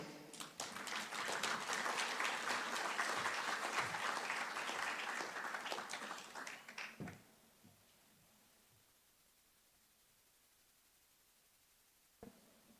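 Loud, dense applause from a large crowd for about seven seconds, then it fades to a quiet room with a single knock near the end.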